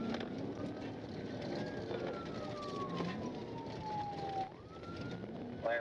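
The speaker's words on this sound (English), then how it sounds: "When Ennis flipped on his lights and siren to pull the car over, the driver took off, sparking a pursuit." Police car siren wailing during a pursuit, a steady rising and falling tone heard faintly over rushing road and wind noise.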